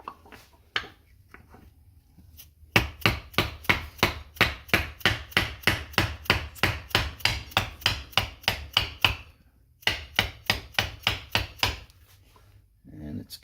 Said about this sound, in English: rubber mallet here, plastic hammer, and just lightly tap this back in.